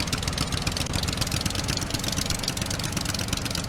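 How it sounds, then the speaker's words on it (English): Boat engine running steadily in the Stranded Deep survival game, a continuous close rumble with an even, unbroken drone and no voices. "We'll use the engine on that."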